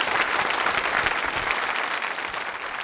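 An audience at a college quiz show claps loudly and steadily for a few seconds, a dense, even wash of applause that tapers slightly toward the end.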